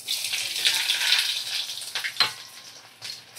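Chopped onions hitting hot oil in a pan alongside fried potatoes, a loud bright hiss that swells and then settles into crackling sizzle with a few sharp pops, close by and without talk.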